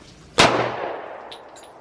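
A single sharp shot from a Smith & Wesson M&P 2.0 10mm pistol cracks loudly at an outdoor range and its echo rings away, followed by faint metallic ticks.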